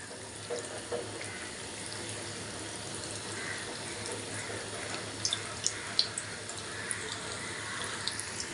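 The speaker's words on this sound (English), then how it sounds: "Batch by batch we'll put it and fry them." Yam koftas deep frying in a kadai of hot oil, a steady broadband sizzle and bubbling throughout with a few small crackles and pops near the end, no talking.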